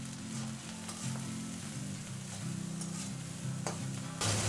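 Taro stolons sizzle steadily in a pan with turmeric, salt and green chilli, close and continuous, with occasional scraping stirs breaking through the frying hiss.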